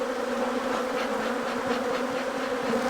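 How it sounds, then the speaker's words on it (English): Agitated honeybees swirling around a split colony hive in the apiary, a dense, continuous buzzing with individual bees droning close past and fading, steady and fairly loud with no talk. "Look at those bees trying to sting me right there."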